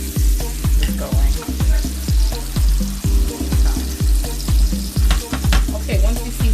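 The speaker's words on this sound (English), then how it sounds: "I have 2 pans going here because I got a lot of steaks to cook" Steaks fry in butter across two pans, sizzling loudly and close, with a steady rhythm of repeated tapping and scraping strikes running throughout.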